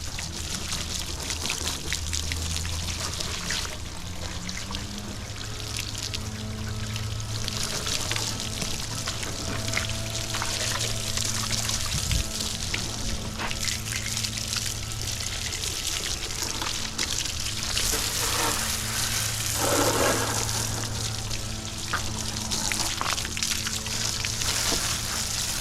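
Garden hose water rinses a Honda Goldwing motorcycle from the top down, a steady broad hiss of spray and splatter running continuously at moderate loudness with small shifts as the stream moves.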